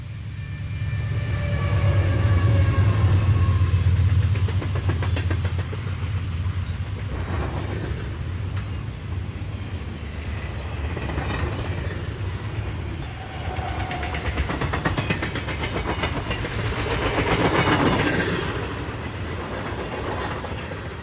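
A CSX freight train, Q375, rolls westbound through the Magnolia Cut Off in 1992, a steady heavy rumble with wheel clatter and engine drone sustained throughout, fairly close and continuous with no speech.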